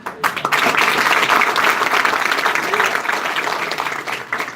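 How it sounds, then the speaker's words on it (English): Energetic audience clapping at a live counselling session, a dense, steady burst that stays loud for several seconds before tapering slightly, with some voices mixed in. "Give a big energetic clap."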